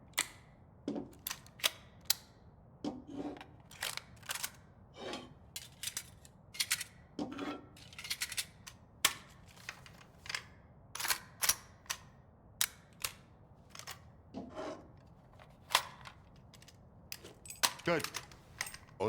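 Metallic clicks and snaps of AK rifle parts being fitted together in S.T.A.L.K.E.R. 2, sharp irregular taps scattered across a quiet background, some in quick clusters and others spaced apart.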